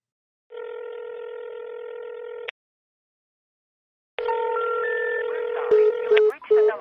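A telephone call to a disconnected number gives a steady dial tone, then a pause, then the tone returns with a rapid run of keypad dialing beeps and short clicks, all close and clear.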